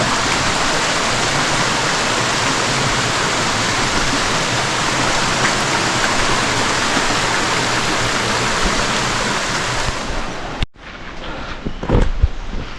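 Steady, dense rush of falling water from Dhuppani Falls in the forest of Rangamati fills the scene without pause, then drops abruptly to a quieter outdoor background with faint scattered sounds near the end.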